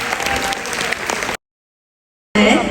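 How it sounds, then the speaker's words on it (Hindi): An audience at a PW Aagaz student event in Panipat breaking into dense, loud applause, cut off by a second of silence before the clapping resumes. "जोरदार तालियां हो जाए इसके लिए"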